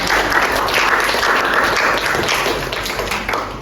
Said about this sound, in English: give applause to Salma